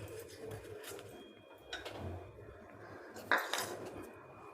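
Chopped onion being stirred into chickpea dosa batter in a bowl, giving soft continuous wet scraping and clinking of a spoon against the vessel, with a couple of sharper knocks, close and moderately quiet.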